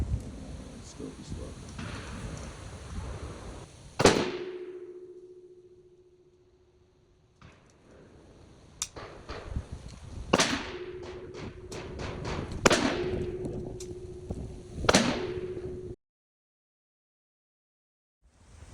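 Precision testing of 5.56 ammunition from a gas piston rifle outdoors: a series of loud, sharp shots, one followed by a long ringing decay and others in a quicker irregular cluster, with some quiet movement between them.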